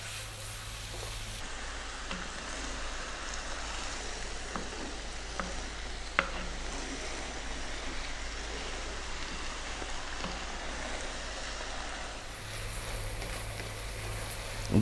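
Vegetable chow mein noodles stir-fried in a hot pan over high heat give a steady, loud sizzle and crackle, with occasional stirring scrapes and clinks, lasting the whole stretch without talk.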